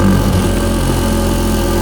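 A Toyota A90 Supra fitted with a Ford 8.8 limited-slip differential idles close by in a steady, loud, low drone before its first drive, the tone unbroken and with no talking.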